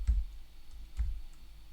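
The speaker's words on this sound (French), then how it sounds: "Je clique ensuite ici, ou alors j'appuie sur tabulation" Two soft computer mouse clicks sound close and quiet while working in Google Sheets, spaced about a second apart against a faint low background hum.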